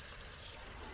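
Water sprays steadily onto a car during a thorough rinse, a continuous close rushing hiss lasting about a second with no talk.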